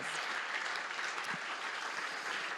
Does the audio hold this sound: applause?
yes